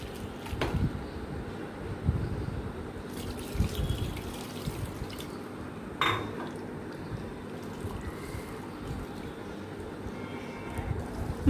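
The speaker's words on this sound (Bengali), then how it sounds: "এখন পরিমাণ মতো পানি দিয়ে দিব মাংসগুলো কষিয়ে নেওয়ার জন্য" Water poured into a pot of beef during home cooking of a beef curry, a quiet splashing and trickling with a few soft clinks, heard up close and alone.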